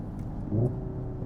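A Hyundai Ioniq 5 N plays its simulated engine sound, a brief low engine-like rumble and rev heard inside the car, with a short swell in the middle of a quiet cabin hum.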